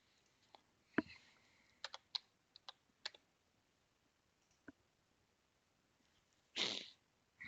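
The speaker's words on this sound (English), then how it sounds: "Excuse me while I type." Typing on a computer keyboard in a quiet room: scattered single key clicks and short bursts, sparse and close, with a louder cluster of keystrokes near the end and no talk.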